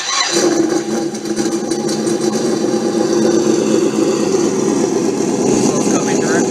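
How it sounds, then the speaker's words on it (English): A loud, steady simulated engine rumble from a sound module in a Losi Baja Rey RC car drones continuously at close range from the hood, with a brief spoken word at the start. "now the sound module will turn on, and it is very loud."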